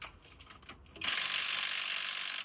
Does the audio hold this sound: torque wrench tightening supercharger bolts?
yes